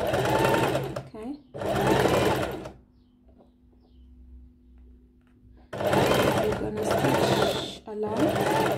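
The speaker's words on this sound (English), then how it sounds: "you're just going to use a normal straight stitch, and you're going to stitch at 1/4 inch" A sewing machine runs a normal straight stitch at a quarter-inch seam in two short bursts with a quiet pause between, each burst a rapid steady whirr; a voice talks over and between the stitching.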